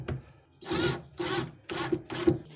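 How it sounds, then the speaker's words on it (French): A small screw is driven into wood with a power screwdriver while building a wood and steel chest of drawers, four short whirring bursts separated by brief pauses, close and fairly loud. "On prend la petite vis, on va venir visser."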